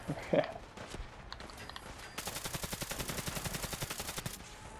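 Automatic gunfire in the video game Fallout 4 during a settlement fight, with a few scattered shots first and then a fast, even burst of rapid fire lasting about two seconds at close range.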